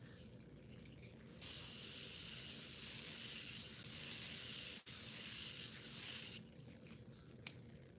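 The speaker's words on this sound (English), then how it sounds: "So now I'm gonna spray my face." Fine mist from a spray bottle hisses steadily onto a face during makeup, one long close spray with a brief break midway, then quiet handling afterward.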